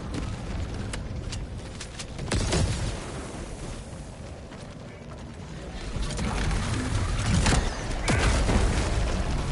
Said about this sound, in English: I just straight up blow everything up